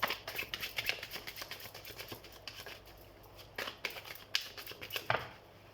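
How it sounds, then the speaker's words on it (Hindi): Tarot cards are shuffled close by, giving quick papery riffles and soft slaps in uneven bursts with short pauses between them. "तो सबसे पहले हम कार्ड शफल कर लेते हैं।"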